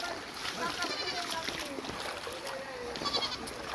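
Goats wade through water, splashing steadily while several wavering bleats rise over the churning, with people talking and calling out throughout.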